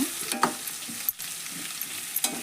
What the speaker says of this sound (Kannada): ಇದೆಲ್ಲ ಮಿಕ್ಸ್ ಮಾಡಿ ಫ್ರೈ ಮಾಡಕತ್ತೀನಿ ನೋಡ್ರಿ ಎಣ್ಣೆ ಒಳಗೆ